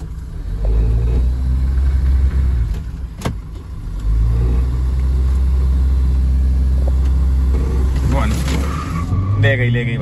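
A Toyota Fortuner and a Mahindra Thar 4x2 drag race with traction control off, their engines droning loud and steady close by, with a sharp burst near the start and revving toward the end while people talk over it.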